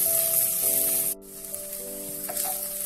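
Masala of coriander and cumin powder frying in a pan for a Bengali prawn malai curry, a steady close sizzle with a brief dip midway and faint stirring, no talk.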